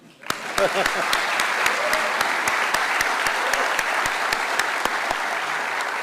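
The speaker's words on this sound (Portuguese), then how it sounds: "vamos até te aplaudir de novo agora" An audience at an economists' week lecture breaks into applause, starting abruptly and settling into a steady crowd of clapping, with one nearby clapper's sharp, regular claps standing out above the rest.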